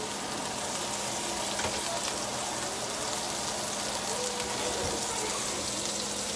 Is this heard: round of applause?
no